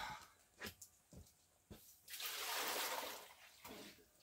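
Water poured for a rinse, a few soft splashes and drips followed by a longer steady pour and splatter, close and fairly quiet, with no talking.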